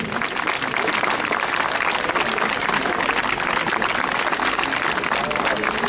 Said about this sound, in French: réserver un tonnerre d'applaudissements pour ces animaux qui vous ont fait plaisir